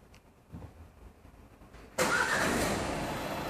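A Renault Megane 4 car engine cranks and starts with a sudden loud onset partway through, then settles into a steady broadband running sound after quieter background noise.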